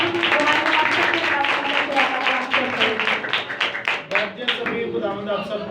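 Applause from an audience at a Christian ministry gathering in Pakistan, a loud dense wash of clapping running steadily through the whole stretch, with voices mixed in.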